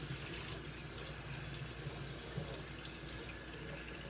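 Hot tap water runs steadily into a kitchen sink, a continuous close splashing rush that holds even throughout, with no talk over it.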